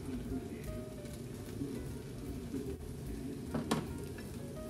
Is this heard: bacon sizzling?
yes